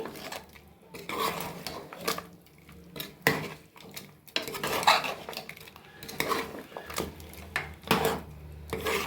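A spoon scrapes and clanks against a pan while tomato chicken with spices is stirred, in repeated uneven bursts of metal-on-metal knocks close to the mic.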